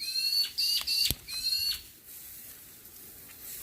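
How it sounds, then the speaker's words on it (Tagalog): Several high, squeaky chirping bird calls come in quick bursts near a garden of succulent plants, followed by a quieter stretch of faint background noise. "Ang ingay naman ng ibon."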